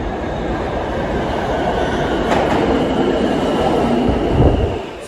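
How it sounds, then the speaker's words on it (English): A New York City subway E train rumbles through a station, a steady loud roar of wheels on rails with a metallic squeal near the end as it brakes. "now we've got to wait for another 5 minutes for the next E train to come take us along to 48th Street"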